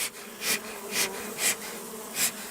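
Honey bees buzz at an open hive during transfer of a small colony into a full-size hive, a steady drone with louder swells every half second or so as bees fly close past.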